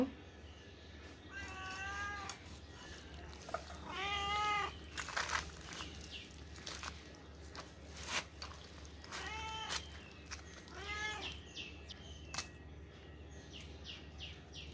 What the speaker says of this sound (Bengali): আমার বিড়ালগুলো চলে আসছে মুরগি খাওয়ার জন্য